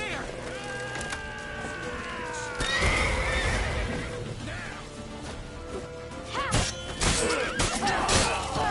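A horse neighs loudly in The Witcher 3, drawn-out whinnies mixed with crashes, thuds and hoofbeats as voices shout in the game.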